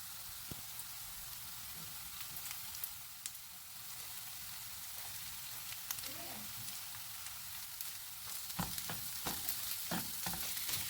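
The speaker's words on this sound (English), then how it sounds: "allow the onion to fry for about 2 minutes" Onion frying with paprika in a pan gives a steady soft sizzle with occasional stirring scrapes and clicks, close and fairly quiet, growing a little busier toward the end.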